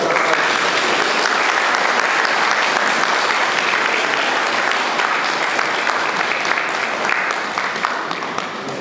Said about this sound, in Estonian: talle võib isegi aplausi teha